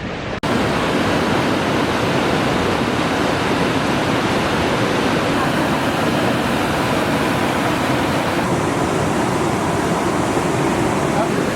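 Waterfalls on the river beside a famous bridge in Bath roar steadily, a loud, dense wash of falling water filling the whole stretch without break.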